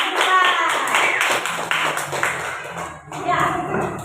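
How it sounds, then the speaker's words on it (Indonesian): Classroom of pupils clapping for a group, a dense patter of hand claps under a teacher's voice, with a brief dip before the applause resumes. "Tepuk tangan untuk yang kelompoknya sudah lanjut ke depan."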